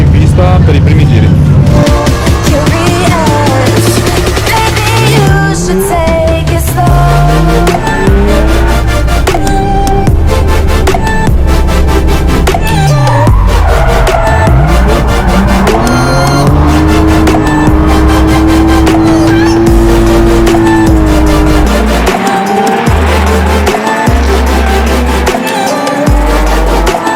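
A drift car lapping the Varano de Melegari race track, its engine revving hard and continuously with rising and falling pitch sweeps as it accelerates through corners, loud and close throughout.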